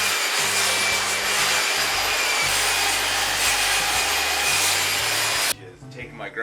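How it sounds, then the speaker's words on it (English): Angle grinder fitted with a light-grit sanding disc smoothing chainsaw marks off a carved wooden address post, a steady close rasping hum with shifting low tones that cuts off abruptly near the end. "using a really light grit, we're just gonna sand all the chainsaw marks"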